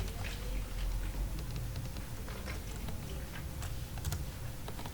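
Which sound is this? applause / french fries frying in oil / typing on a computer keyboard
typing on a computer keyboard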